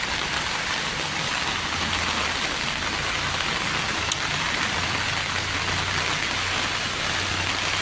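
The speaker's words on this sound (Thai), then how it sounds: "ฝนตกแป๊บเดียวครับผมน้ำนี่มาเต็มเลย" Heavy rain pours steadily and loudly with strong wind, a dense unbroken hiss of drops hitting surfaces, with a faint low hum underneath.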